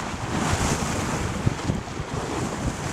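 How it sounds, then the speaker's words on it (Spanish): Ocean waves wash and roll under a steady rush of wind, a broad continuous hiss with faint low thumps of surf, close and unbroken throughout. "es el movimiento de las olas y el viento"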